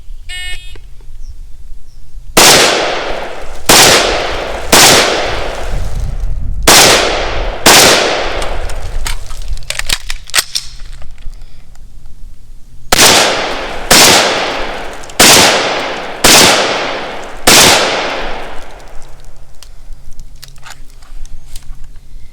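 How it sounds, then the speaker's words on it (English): A Fulton Armory A1 rifle fires during a law-enforcement qualification course, two groups of five loud, sharp shots with ringing decay, separated by a pause for a reload and position change. "I fire 5 shots from that standing position. Then I drop to a kneeling position, perform a mandatory reload, and then fire 5 more shots"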